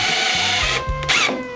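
A power drill with an SDS bit whines loudly up close, its motor pitch shifting as the bit bites into wood, with brief grinding bursts near the end.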